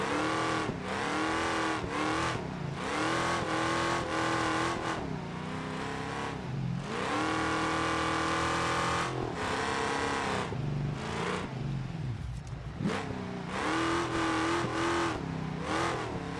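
A wagon's engine in the BeamNG.Drive driving game revs repeatedly, rising and falling between shifts, loud and close throughout with short dips, and no voices.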